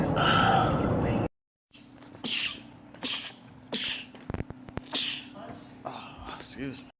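A man sneezes in a rapid series of about four or five sharp bursts spaced roughly a second apart, close and fairly loud, following a noisy opening and a brief silence.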